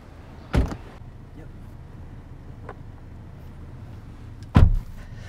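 Two short clunks of a 2020 MINI Cooper S Clubman door being worked, one near the start and one near the end, with quiet cabin ambience between them.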